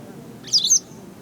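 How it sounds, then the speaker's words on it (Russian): A brief, high, twittering wagtail call of two quick chirps sounds nearby over a soft background hum. "Трясогузка или сойка?"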